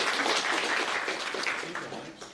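An audience applauds after a startup pitch, a dense, steady wash of clapping that fades slightly toward the end, with some voices mixed in.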